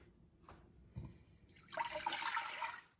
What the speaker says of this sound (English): So put in your broth.